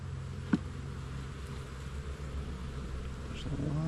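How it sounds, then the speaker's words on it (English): A steady, dense buzzing of many bees around a hive fills the background, close and continuous, with a few brief louder passes. "There's a lot of bees."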